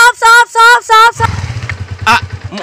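A nearby motorcycle engine idles with a rapid, uneven low putter after a few loud, drawn-out vocal sounds at the start.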